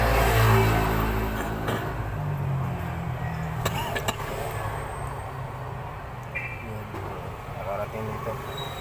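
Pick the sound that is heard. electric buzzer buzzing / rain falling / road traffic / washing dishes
road traffic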